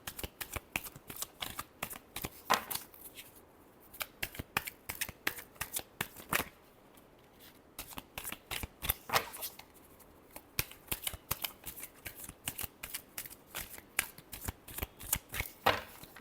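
Tarot cards being shuffled by hand in a steady run of crisp, rapid riffling clicks and flutters, close up, with brief pauses between bursts and no talking.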